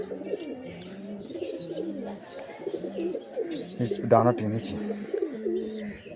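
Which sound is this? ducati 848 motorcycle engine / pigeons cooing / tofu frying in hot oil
pigeons cooing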